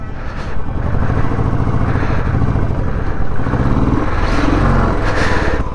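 A motorcycle carrying two riders strains and fails to pull, its engine a loud, dense, steady drone throughout the whole stretch, with no voices.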